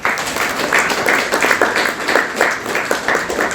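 An audience at a Rotary Club installation ceremony claps steadily, a dense, sustained round of applause from many hands with a rhythmic pulse, moderately loud and continuous throughout.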